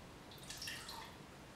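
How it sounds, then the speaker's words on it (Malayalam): Water is poured from a small cup onto rice for appam batter, giving a brief, faint splash and trickle. "ഇപ്പോൾ നമ്മൾ ഈ ചെറിയ കപ്പിന് 1 കപ്പ് വെള്ളം ഒഴിച്ചു കൊടുക്കുവാണ്"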